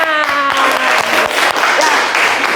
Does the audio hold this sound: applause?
yes